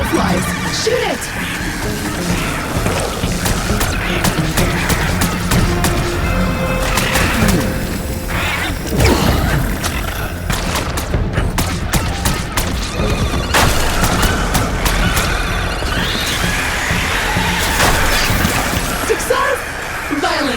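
Gunfire aimed at a butterfly creature in the video game Revenge of the Savage Planet: loud, repeated blasts and crashing impacts over a busy game soundscape, sustained across the whole stretch.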